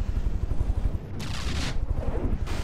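Video game missiles fire and burst in a dense battle mix of heavy rumbling booms and crackling blasts, with two bright hissing explosion surges, loud and continuous.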